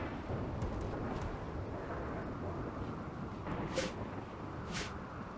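Thunder from a lightning strike in the RimWorld video game, a low continuous rumble with a few brief crackling bursts, moderately loud, with no talking.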